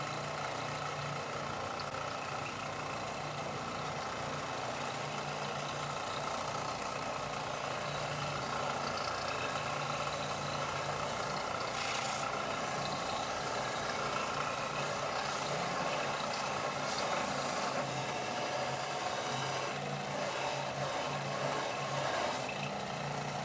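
A belt-driven power tool with a high-power motor spinning steadily while an industrial-sized wooden spoon is carved, a constant droning whir with a rough grinding edge that swells slightly later on, close and with no talking.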